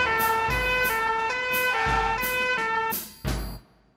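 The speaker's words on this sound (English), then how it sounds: "Into the fire engine and off they go." Cartoon fire engine siren wailing in a steady repeating two-tone pattern, loud and close, then fading out at the end with no talking.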